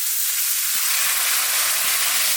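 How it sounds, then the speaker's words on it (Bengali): Spices for a sour crab curry with elephant apple fry in a pan: green chilies, cumin, coriander and Kashmiri chili powders with a splash of water. They make a dense, even hissing sizzle close by, with no speech. "মশলা কষানো হয়ে গেছে"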